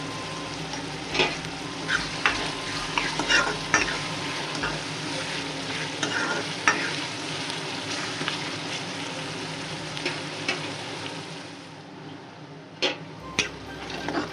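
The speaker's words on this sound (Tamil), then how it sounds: "வெங்காயம் வதங்கிச்சு." Onions sauté in a pan for mutton head curry fry, a continuous close sizzle broken by frequent scraping stirs and light clinks of a utensil against the pan, with no talking.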